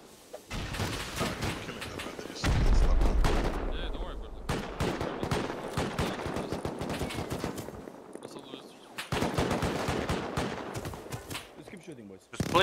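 Rapid automatic gunfire in the survival game Rust, dense crackling volleys with a heavy boom early on and a short quieter gap midway, while players talk.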